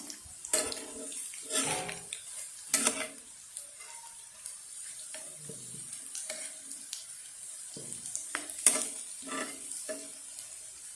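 Lentil fritters (dal bora) frying in oil in a pan, soft sizzle with a spatula scraping and turning them in irregular bursts, close and fairly quiet.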